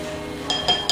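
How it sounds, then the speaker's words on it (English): Yeast mixture is stirred in a bowl, giving three quick, bright clinks of a utensil against the bowl in the second half, close and crisp over a quiet background. "let that yeast get activating, maybe even give it a little stir, just so that it's mixed up a little good"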